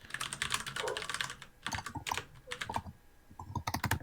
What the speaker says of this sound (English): I'm now going to stop typing.